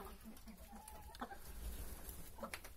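Araucana hens in a backyard coop give soft, intermittent clucks and short calls at moderate distance over a steady outdoor background hum, with no talking.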